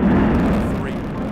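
A rocket lifting off at launch, heard as a loud, continuous deep roar that holds steady and eases off only slightly over a second or so.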